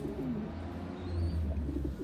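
Pigeons coo in low, throaty bursts from a loft of fancy breed birds, steady and moderately near, with no talk over them.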